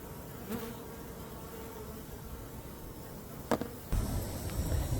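Honey bees swarm around a supply of dry pollen, their faint, continuous buzzing hum heard close by with a few louder passes and a rustling bump near the end.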